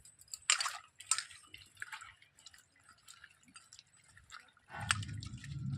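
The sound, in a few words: rinsing cut green beans with water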